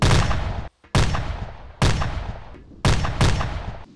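Artillery guns firing rounds in Arma 2, five loud booming shots at uneven intervals, each with a long decaying rumble, close and with no talk over them.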